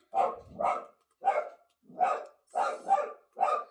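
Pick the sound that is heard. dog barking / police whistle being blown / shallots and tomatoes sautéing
dog barking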